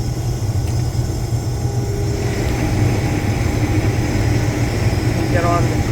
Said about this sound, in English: we're going to put this header in gear